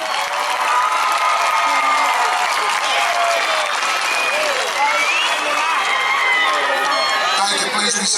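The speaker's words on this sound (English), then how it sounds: "please give them a heartfelt round of applause" A large crowd applauds and cheers at a 2016 high school graduation ceremony at Coffee High School, a loud, dense, continuous roar of clapping mixed with shouts and whoops that lasts throughout.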